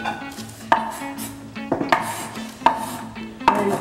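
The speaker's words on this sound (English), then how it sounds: "Right now we're using our rock cut method to cut the onions." A knife rock-cuts onions on a cutting board with four or five sharp, evenly spaced chops at close range. A dull knocking resonance follows each stroke.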